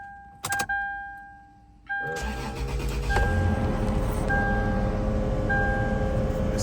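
A few electronic chime tones sound, then the V6 engine of a Toyota 4Runner with 294,000 miles cranks and catches and settles into a smooth, steady idle that keeps running.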